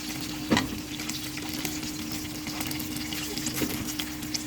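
A second batch of chicken fries in hot oil, a low steady sizzle and bubbling heard up close, with a couple of sharp knocks from the pan or utensil and no talking.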